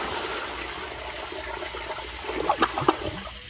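A Zurn child-size commercial toilet flushes, with a steady rush of water building into louder gurgling siphon bursts near the end, close and alone.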